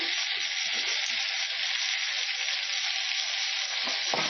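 Potatoes fry over low heat in a pan with meat, giving a steady, even sizzle close by with no voices and no pauses.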